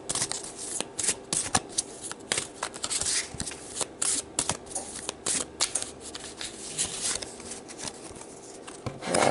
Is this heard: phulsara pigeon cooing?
no